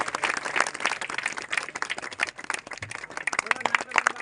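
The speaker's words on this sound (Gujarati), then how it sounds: "तालियां पड़े जोरदार તાળીઓ પાડશું।" An audience claps through a library inauguration with a ribbon-cutting, a dense patter of many hands that runs throughout, mixed with voices speaking.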